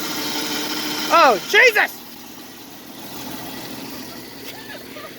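A Jeep XJ Cherokee idles while its steering wheel is turned all the way, giving a steady mechanical drone with a tonal whine from the power steering. A person briefly exclaims over it partway through.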